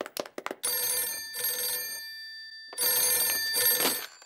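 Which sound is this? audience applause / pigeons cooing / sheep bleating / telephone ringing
telephone ringing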